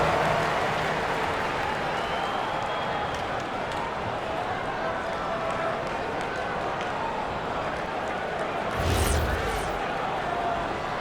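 Crowd applause in an NBA 2K26 Knicks versus Lakers game on PS5, a broad continuous arena roar and clapping wash that swells briefly near the end, with voices mixed in.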